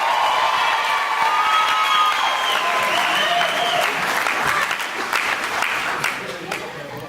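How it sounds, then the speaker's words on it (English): Loud, sustained applause from a large crowd at a school graduation ceremony, steady clapping with some cheering mixed in, tapering slightly toward the end. "Another round of applause for Darian Weston, please."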